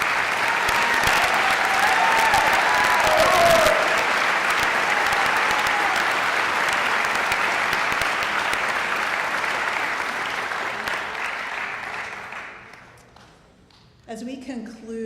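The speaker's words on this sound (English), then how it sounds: "Let's give another round of applause for all of these graduates." Graduates at a 2017 College of Architecture graduation ceremony receive sustained, loud audience applause that fades out near the end, with a voice starting to speak as it dies away and a few cheers rising over the clapping.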